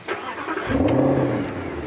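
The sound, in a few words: sports car engine starting and revving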